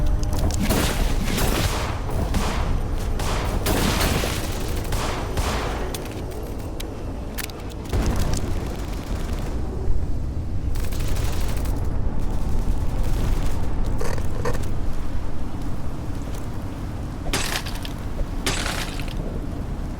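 Gunshots in the video game Sound Mind, loud and dense: repeated sharp blasts and booming impacts arrive in clusters over a continuous heavy rumble, with no speech.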